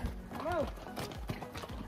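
Mule carrying a rider down a steep snowy trail at Kufri near Shimla, hooves giving a few soft, close clip-clops while a person talks, with a brief whinny-like cry.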